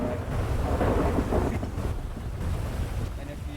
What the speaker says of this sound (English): if you cannot hear me because of the rain, turn down your SFX volume so you can hear me